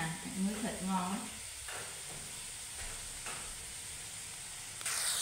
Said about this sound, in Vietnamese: Mình chiên thịt thì mình cho lửa riu riu thôi cả nhà, cho thịt nó chín từ trong ra ngoài nha.